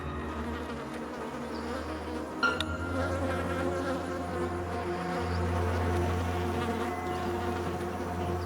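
Many flies buzz in a steady drone around a lizard waiting for prey at a feeding site on the savanna, with a faint tick partway through.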